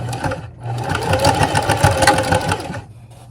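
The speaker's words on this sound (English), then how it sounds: "take your time and just sew that shut" A sewing machine stitches a turned seam shut on fabric, running steadily and close for about two and a half seconds with a dense rhythmic chatter, then stopping.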